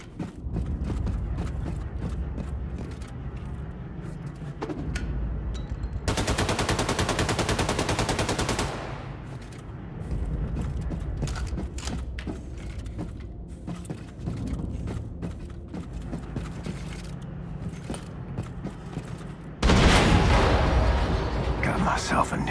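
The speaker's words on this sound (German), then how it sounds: "Explosion in der Hangarbucht." Gunfire and explosions from the video game Wolfenstein II: The New Colossus, with two loud, dense bursts of rapid shooting and blasts that cut through a steady backdrop of game sound and voices.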